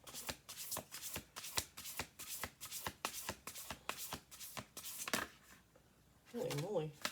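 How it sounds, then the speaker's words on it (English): A deck of oracle cards is shuffled close up in brisk repeated riffles, a run of crisp flapping bursts that stops, followed by a short spoken phrase at the end. "I'm gonna do 2 more shuffle throughs."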